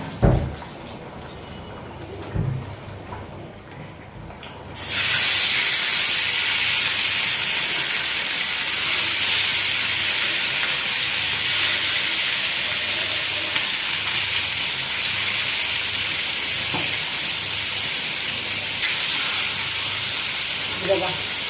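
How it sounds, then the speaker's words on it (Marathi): Fish fry in about two ladles of hot oil on a griddle pan. After a few quieter seconds, a loud, continuous sizzle starts and holds steady to the end. "आपली मच्छी तव्यामध्ये फ्राय होते आता"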